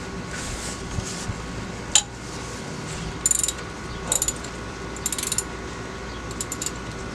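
Metal tool work while tightening a part during an oil change on a 2019 Ford Fusion SE: a few short ratcheting clicks and clinks in separate bursts over a faint steady hum, close by.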